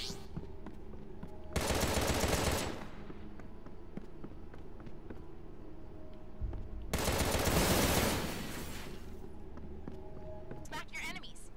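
Machine gun fire from the Contra Rouge Corps video game comes in two loud, dense bursts of about a second each, over faint game sounds, with a player talking between them.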